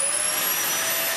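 A Dyson DC15 vacuum cleaner runs at full power, giving a loud, steady whining roar with a high tonal whine, heard close and alone for about a second.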